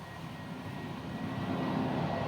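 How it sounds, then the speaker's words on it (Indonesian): An airplane passes overhead along a flight path above a house, a steady broad roar that swells slightly toward the end, with no talking. "ada pesawat yang lewat"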